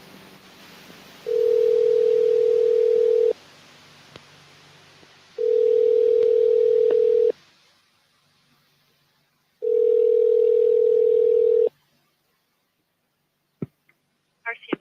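A telephone tone sounds in three long steady bursts separated by silences, loud and clean, followed by a few faint clicks.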